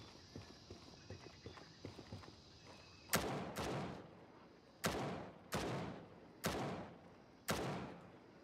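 Gunfire in a video game: light rapid footstep-like taps at first, then five loud, sharp shots spaced about a second and a half apart, each followed by a ringing decay, close and prominent with no talk.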